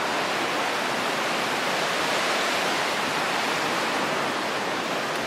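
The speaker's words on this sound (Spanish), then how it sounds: "me quedé un rato grabando el río." Steady broadband rush of the Río del Valle flowing in Pejibaye, Cartago, Costa Rica, a constant close wash of water with no pauses and no voices.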